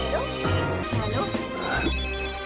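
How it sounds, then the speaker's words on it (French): A mobile phone ringtone rings loudly and continuously in a cinema setting, a steady electronic tone running throughout, close and clear with no talking. "Dans une salle de cinéma, on coupe le téléphone."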